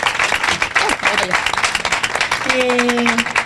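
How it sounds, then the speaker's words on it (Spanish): Applause for the first speaker at a round-table event, a lively burst of clapping with voices mixed in and a few sustained tones rising above it near the end. "damos un fuerte aplauso a María Dolores, nuestra primera ponente"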